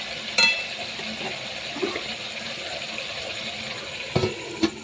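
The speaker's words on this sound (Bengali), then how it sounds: "এই যে তেল ছেড়ে গেছে, এক্ষুনি তেল ছেড়ে গেছে, নাড়ানাড়ি চলছে।" Masala fries in oil in a pan with a steady, fairly quiet sizzle and hiss, broken by a few sharp scrapes and knocks of a stirring spoon.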